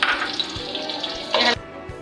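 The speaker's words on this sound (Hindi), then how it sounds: "इसके अंदर मैं पहले प्याज ऐड कर रही हूँ।" Chopped onion hitting hot oil in a pan for a spicy chicken dish, giving a steady close sizzle that swells into a louder burst of frying near the end, with faint clinks and stirring.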